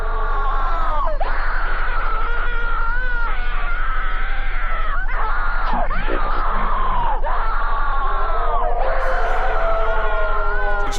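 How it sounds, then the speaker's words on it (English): Drawn-out, wavering screams tied to a creepypasta story, loud and continuous, several wailing cries rising and falling in pitch over a constant low hum, with no talking. "Yep, screaming."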